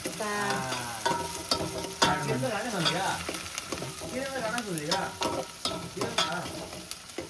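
Onion tempering in hot oil gives steady sizzling and crackling, with occasional stirring clinks, continuous and close, with muffled voices faintly in the background.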